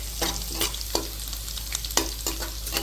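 Garlic frying in a pan with cumin for aloo gobhi, a continuous sizzle with a spoon scraping and stirring several times, close and fairly loud.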